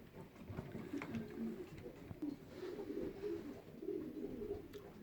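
Pigeons coo at a breeder's loft, several soft overlapping coos repeating over low background rustle. The birds are moderately close, and no one speaks.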